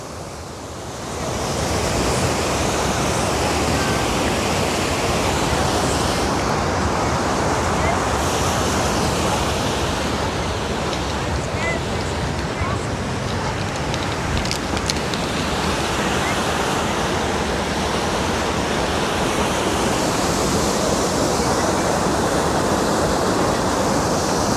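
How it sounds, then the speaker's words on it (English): The Harod River flowing near Beit Shean, a loud, continuous broadband rush of water mixed with wind buffeting the microphone, steady throughout after a quieter first second. "Look at the Harod River."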